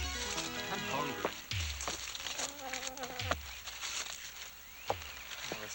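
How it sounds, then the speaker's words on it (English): Mosquitoes buzzing in a 1985 UK children's film soundtrack, a thin continuous whine running under music and scattered effects without pause. "Oh, this place is full of mosquitoes."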